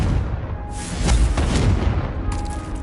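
A Confringo blasting spell explodes in the Hogwarts Legacy video game, a couple of sharp booming bursts with crackling debris over a low rumbling wash, close and loud.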